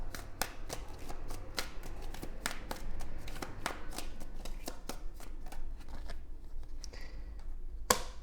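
Tarot cards being shuffled by hand, a run of quick crisp riffling flicks and taps close up, steady then pausing, ending with a sharp snap.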